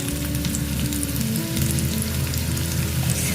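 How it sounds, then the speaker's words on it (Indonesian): Food sautéing in a small amount of oil in a pan for an Indonesian home dish, a steady close sizzle with soft crackle throughout and no talk. "Nah, ini tumis dulu ibu-ibu ya. Kayaknya minyaknya kurang ini."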